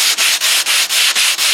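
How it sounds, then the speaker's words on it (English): Hand block sanding of a surface: six rhythmic, evenly spaced rasping strokes, loud and close, each broken by a brief pause as the block changes direction, with no voices. "Just kind of block sand that down."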